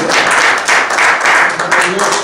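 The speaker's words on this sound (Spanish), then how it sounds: "Dame un fuerte aplauso al Rey de Reyes" A church congregation claps loudly in pulsing waves, near and dense, while a voice carries on over the clapping.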